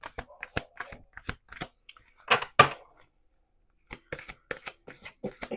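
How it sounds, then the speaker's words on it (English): Tarot and rune cards are shuffled and drawn by hand, close and crisp, with brisk riffling slaps in bursts, a louder shuffle in the middle, then a pause before more quick card snaps. "I'm just going to pull a few cards"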